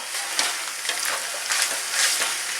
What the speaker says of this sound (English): I'm just going to stir it up a little bit.